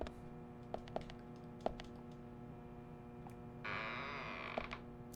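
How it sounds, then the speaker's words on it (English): A door creaks open in the video game Deadly Premonition, heard as a sustained, tonal groaning creak with a few sharp clicks and knocks, then a louder rasping burst near the end, with no talking. "that the doors creak when you walk in."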